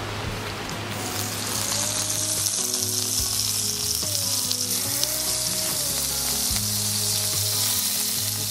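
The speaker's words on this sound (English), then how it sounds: "hear that sizzle" Grasshoppers sizzle loudly in hot butter in a pan, a continuous crackling fry with occasional light scrapes and clinks.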